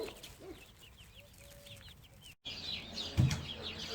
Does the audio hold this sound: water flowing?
no